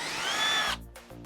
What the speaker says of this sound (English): Let's just drill it.